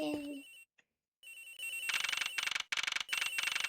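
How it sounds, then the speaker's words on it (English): A cell phone ringtone in the Miles Edgeworth video game plays a gentle lullaby melody in repeated bright, chiming bursts after a short pause, loud and close, continuing steadily to the end. "The ringing's coming from somewhere in here, sir."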